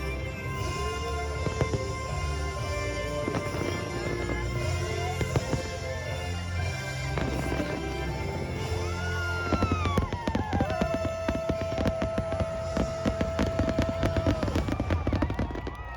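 Fireworks burst over Disneyland in a rapid, continuous barrage of pops and cracks, with a loud musical show soundtrack and a whistling rise blending in, distant crowd noise underneath.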